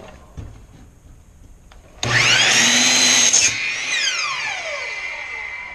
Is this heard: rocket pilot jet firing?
no